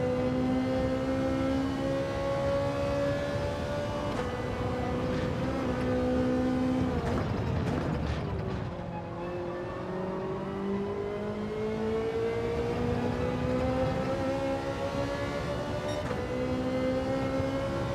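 Ferrari race car engine in Gran Turismo 7 during a race, a loud, steady high-pitched whine that climbs through the revs, dips sharply on a gear change and braking, then pulls again, with no talk.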